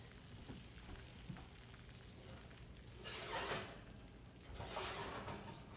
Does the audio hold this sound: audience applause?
no